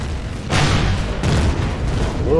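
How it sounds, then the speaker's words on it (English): Enemy gunfire in the Empyrion space game, heavy booming blasts landing in a few bursts over a low rumbling backdrop. "Whoa, he's shooting right at me."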